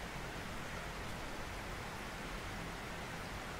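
Steady, even hiss of rain falling in the survival video game 7 Days to Die, a constant dense wash with no breaks, fairly faint and with no talk over it.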